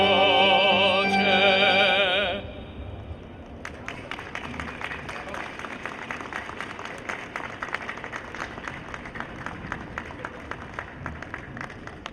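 A crowd at an outdoor Polish Constitution Day parade claps after a performance. Singing with accompaniment ends abruptly, and a second later scattered, fairly distant hand claps begin and continue unevenly to the end.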